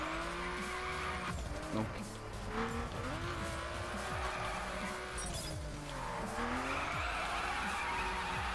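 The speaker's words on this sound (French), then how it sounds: "Hop, on va faire quelques drifts" A RUF CTR-3 drifting in the racing game The Crew, its tires squealing in long sustained screeches over a steady engine drone, with rising and falling pitch through the turns and brief speech over it.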